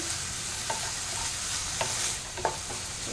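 Chicken frying in a pan on high heat for mixed Hakka noodles, with a steady loud sizzle and a few scraping strokes as it is stirred. No voices.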